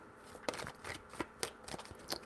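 Tarot cards are shuffled by hand in a few quiet bursts, soft papery riffles and slaps repeating irregularly over a couple of seconds, close and alone.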